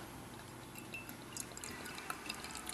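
Beer pouring from a 16-ounce bottle into a glass, a steady splashing, fizzing liquid stream with small drips and bubbles, close and moderately quiet, with no talking.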